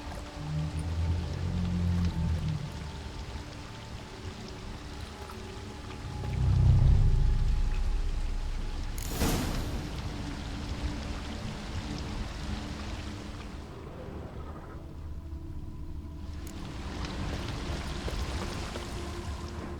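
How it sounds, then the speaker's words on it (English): An upward-flowing waterfall in The Witcher 3: Blood and Wine gives off a steady rushing, splashing wash of water, with a brief louder surge partway through and a sharp bright hit near the middle, and no talk. "A waterfall flowing upwards?"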